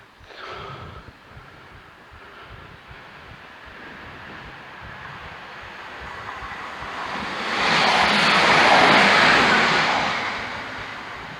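A train on the Leeds to Manchester main line rushes past, building from faint rumbling to a loud roaring whoosh, then fading slightly, with wind noise throughout.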